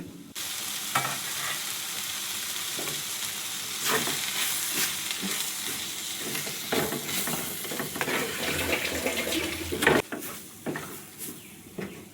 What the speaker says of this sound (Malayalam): ചേർത്ത് നല്ലതുപോലെ വീണ്ടും നമുക്ക് ഇളക്കി യോജിപ്പിക്കാമേ